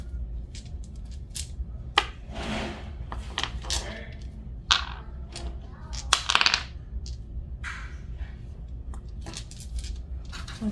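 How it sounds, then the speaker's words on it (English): Two dice rolled together onto a hard surface in a quiet room, giving a quick cluster of sharp clicking, clattering impacts with a few scattered bounces, soft room noise between them. "Let's roll 2 dice."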